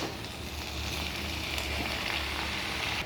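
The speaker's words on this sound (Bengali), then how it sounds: "একবার কড়ার কাছে এসে আস্তে আস্তে করে উলট পালট" Ridge gourd frying in a wok with potato and whole green chillies, turned slowly, gives a continuous close, even sizzle throughout, with no voices.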